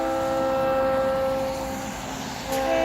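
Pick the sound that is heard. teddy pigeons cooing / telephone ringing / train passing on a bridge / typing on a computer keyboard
train passing on a bridge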